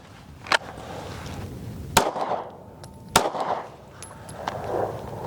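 Shots from an H&K CC9 pistol ring out at a range, three sharp reports spaced about a second apart, each trailing off into an echo, with faint background noise between them.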